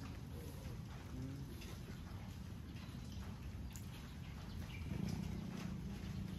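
Steady rain from a typhoon pours down at Sampaloc Lake, San Pablo, Laguna, a constant hiss with a low rumbling bed that swells slightly near the end, no voices present.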